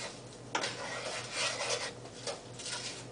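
Shallots being stirred with butter and sugar in a pan give soft scraping and rubbing strokes of a spoon, with faint sizzling underneath, fairly quiet and close, with no talking.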